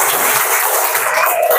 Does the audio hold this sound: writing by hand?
no